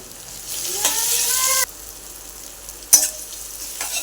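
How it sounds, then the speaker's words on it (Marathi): Tomatoes dropped into a hot pan and stirred for an okra stir-fry, giving a brief burst of sizzling frying with a few scraping stirs, then a quieter pause before another short clatter and hiss, close and moderately loud with no talking. "आता टॉमॅटो घालूया टॉमॅटो मी परतून घेऊया"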